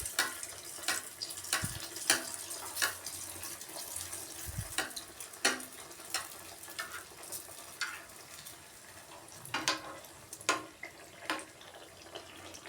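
Athirasam, a sweet rice fritter, frying in hot oil with a steady bubbling sizzle, broken by sharp scrapes and clinks of a utensil turning it and a few brief thumps; no talking.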